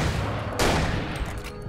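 Gunfire from the video game Alan Wake, a loud burst of shots that starts sharply partway through and rings on through the rest of the short stretch, with no talking over it.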